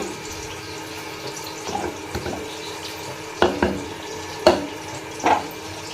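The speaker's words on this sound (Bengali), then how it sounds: "হালকা একটু জল দিয়ে দিচ্ছি" A little water is poured into ginger-cumin paste cooking in a pan for palak paneer, a soft wet trickle with a few sharp clinks of utensil against the pot.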